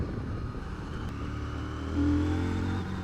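A 2022 CF Moto 800MT motorcycle is ridden on winding rural roads, its engine droning steadily with wind noise and rising briefly in pitch and loudness as the throttle opens.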